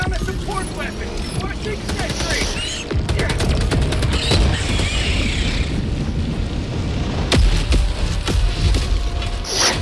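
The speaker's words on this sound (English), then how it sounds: "There's so many just just landing booms." Landing booms in Helldivers II video game: loud, dense rumbling barrage with sharp impact cracks and a steady roar of battle noise throughout, heavy and close.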